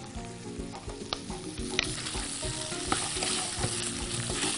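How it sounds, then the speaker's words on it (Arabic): Sauce with meat for Syrian-style shakriyeh sizzles steadily in a pan as it is stirred continuously, with a dense close frying crackle, repeated light scrapes and knocks of the spoon against the pan, and no talking. "نقلب الصوص، ايدينا دايما في الصوص عشان ما يقطعش مننا"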